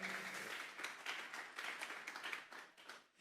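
A church congregation at a Sunday service applauds together, a dense, steady wash of many hands clapping that carries on for the whole stretch before thinning slightly at the end.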